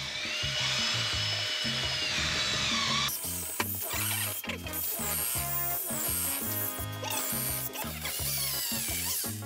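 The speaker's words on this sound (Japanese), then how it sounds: "こうやってドリルでガンガンに穴を開けてあげればね" Loud power drill whirring continuously, with pulsing bursts and rhythmic mechanical chatter as it bores into material, no voices.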